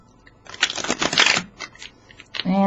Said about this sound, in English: 3 more shuffles, okay?